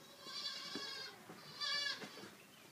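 A baby goat bleats in two clear, wavering cries outdoors, the second louder and higher than the first, with a short pause between them.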